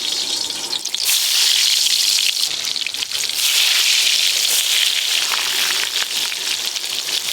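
Brinjal slices sizzling in hot oil in a pan, a loud, steady crackling hiss that runs continuously and close up with no break.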